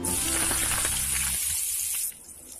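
Onions hit hot oil in a pan with a loud, close sizzle and some stirring, then the crackle thins out into a quieter steady hiss.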